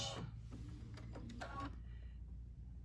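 A sewing machine makes a short back stitch on an appliqué ornament pillow: a brief burst of close, quick mechanical stitching clatter that fades into near quiet.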